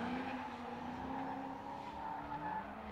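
Drift car at an RDS West 2018 tandem round in Saint Petersburg skidding in understeer, a sustained tire squeal over a droning engine note, heard at moderate distance.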